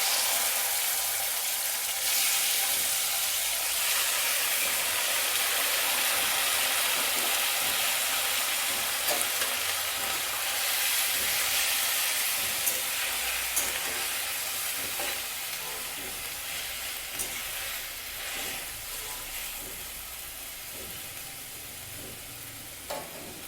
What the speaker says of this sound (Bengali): এবারে আমি আস্তে আস্তে টমেটোগুলো ছেড়ে দেবো